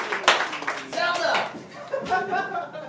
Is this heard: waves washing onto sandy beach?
no